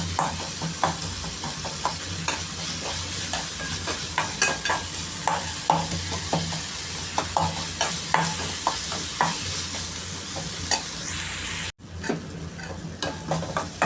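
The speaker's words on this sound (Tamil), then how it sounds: "தக்காளி நல்லா வதங்கிடுச்சு" Tomatoes sautéing in a pan for idli kurma, with steady stirring scrapes and a soft sizzle running throughout, loud and close, with no talking.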